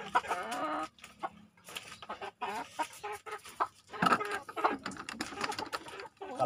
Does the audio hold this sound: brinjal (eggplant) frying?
no